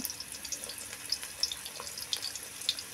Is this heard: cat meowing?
no